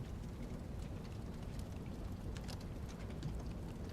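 Steady rain falling in the horror video game VEIN, a dense continuous hiss with scattered droplet ticks and a low rumbling bed underneath, constant and fairly quiet throughout with no other sounds.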